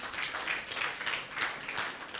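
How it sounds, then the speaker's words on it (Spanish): A large church congregation claps steadily and loudly for Jesus Christ, dense overlapping applause that swells in waves throughout. "den un fuerte aplauso a Jesucristo"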